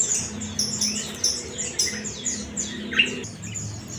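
A kapas tembak songbird kept at a bird shop in Cibinong chirps and tweets in quick, bright, repeated phrases close by, over a steady low hum of background noise.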